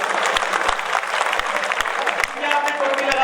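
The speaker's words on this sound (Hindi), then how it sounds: "तालियां लगाइए।" Audience applause fills a hall during a Hindi motivational talk, dense sustained clapping from a crowd heard fairly close, with a voice speaking briefly over it.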